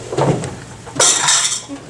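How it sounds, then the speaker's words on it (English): Jeweled goblets clashing in a great hall, two bright metallic clinks and clatters like tableware knocking together, close and fairly loud. "the jeweled goblets clashed in the great hall"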